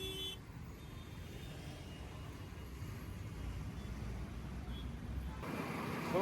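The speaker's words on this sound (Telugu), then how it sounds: "సో ఇక్కడ చాలా ట్రాఫిక్ అయితే ఉంది" Heavy road traffic rumbles steadily and fairly faint around a ride through busy streets, a continuous low wash of engines with no clear horn blasts standing out.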